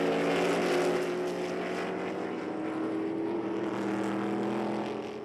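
500 bhp V8 race car engines at the Valencia racetrack, a continuous loud roar that swells and fades slightly as the cars circle, with no voices over it.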